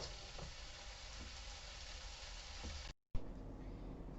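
Asian fried rice sizzles in a hot pan, a faint, steady hiss with a few soft stirring knocks, broken by a brief dropout near the end.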